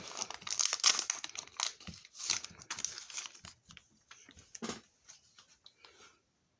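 The crinkly foil wrapper of a trading card booster pack is torn and crumpled open by hand, with close, busy rustling that slows to a few soft crinkles and ends in silence.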